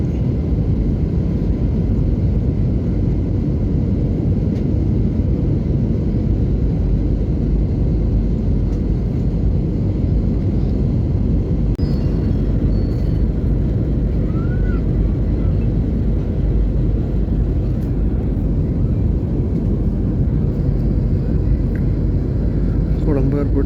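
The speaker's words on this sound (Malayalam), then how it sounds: "ലാൻഡ് ആവാനായി താഴത്തെത്തി" Loud, steady engine rumble of a SriLankan Airlines airplane descending to land fills the whole stretch, a constant low roar without breaks.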